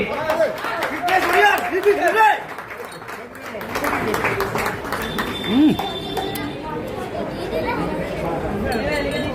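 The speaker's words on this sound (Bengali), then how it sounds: "সবাই জোরে হাততালি।" Applause and chatter from a crowd at an iron-lifting award ceremony. Clapping rises and falls under steady crowd noise, with voices talking throughout.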